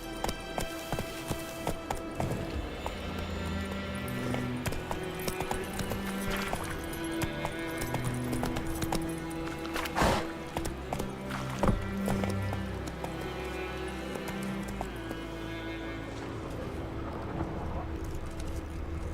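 Horse hooves clip-clop steadily in Witcher 3: Wild Hunt, a continuous rhythmic trot layered over game music and ambience, with louder thuds around the middle.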